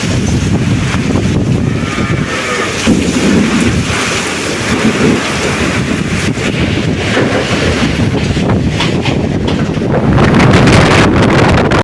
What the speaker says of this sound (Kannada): ಚಲೋ ಅಂತ ಮಳೆ ಬಂತು ನೋಡಿ